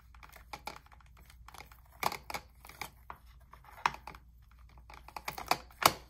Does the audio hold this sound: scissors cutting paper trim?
yes